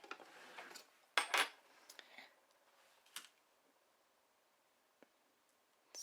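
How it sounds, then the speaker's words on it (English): A metal spoon clinks and rattles once sharply as it is pulled out, followed by a few faint light taps in an otherwise quiet kitchen. "Get my spoon out."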